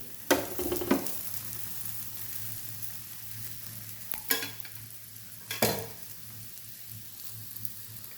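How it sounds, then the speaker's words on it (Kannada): Sweet potato holige frying in oil on its second side in a pan, a steady soft sizzle with a few sharp scraping stirs and spatula strokes, close and clear with no talking. "ಇವಾಗ ಮುಗಿಚಾಕಿ ಇನ್ನೊಂದು ಸೈಡು ಬೇಯಿಸೋದು ಅದಕ್ಕೂ ಕೂಡ ಇನ್ನೊಂದು ಸ್ವಲ್ಪ ಸ್ವಲ್ಪ ಎಣ್ಣೆ ಹಾಕಿ"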